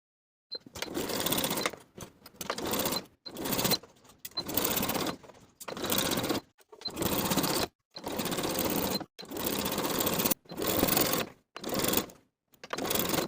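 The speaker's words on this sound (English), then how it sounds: "you can also top stitch along the top seam of the main waistband" A sewing machine topstitches along the waistband seam of a woven romper in a series of short, loud bursts separated by brief silent pauses.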